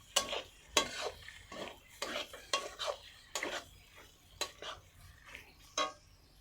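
A ground spice paste being sautéed in a pan for a cabbage and pea dish, with repeated scraping and stirring strokes of a utensil against the pan over a faint low sizzle, fairly close.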